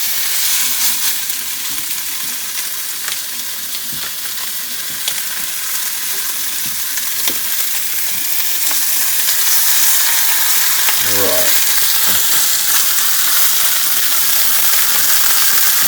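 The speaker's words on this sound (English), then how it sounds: "So I'm going to put them in here." Bacon-wrapped, cream cheese stuffed venison backstrap frying in hot oil, a loud, continuous close-up sizzle and crackle that holds steady throughout with no voices.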